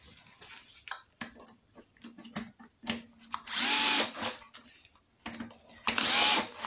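Ignition coil being tightened on a Briggs engine of a Toro Recycler lawnmower, with short bursts of a power driver whirring, two longer loud runs among scattered clicks and handling noises, no talk.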